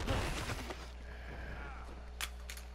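Gunshots ring out in the Red Dead Redemption 2 video game: a few sharp cracks, one especially clear near the end, under a steady low rumble and game ambience.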